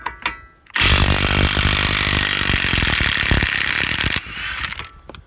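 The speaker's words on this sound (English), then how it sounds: "we got the mid torque trying to do a wheel lock nut" A Milwaukee mid-torque impact wrench hammers loudly and continuously for about three and a half seconds, removing a wheel lock nut on a 1991 Honda Civic, then stops abruptly.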